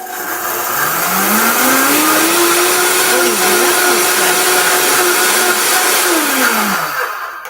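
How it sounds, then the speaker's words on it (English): A kitchen blender whirs with soapy water for cleaning, spinning up, holding a steady loud motor whine for several seconds, then winding down, close and alone. "Put a drop of soap in it and then run it in the blender just for a second here."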